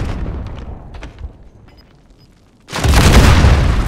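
In the shooter video game Warzone, a booming rumble fades out and then a second loud rocket explosion hits with a sharp onset and a heavy roar that keeps going.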